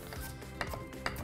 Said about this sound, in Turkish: Birazcık doğrayın.